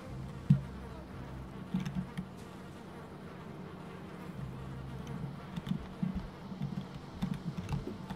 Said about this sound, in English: Ooh, I hear bees.